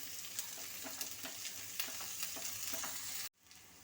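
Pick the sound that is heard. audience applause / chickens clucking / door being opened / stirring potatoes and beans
stirring potatoes and beans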